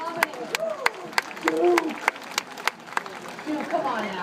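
An aquarium sea lion slaps its flippers together in a quick run of about a dozen sharp, close claps at a steady beat, with a voice sounding between the slaps.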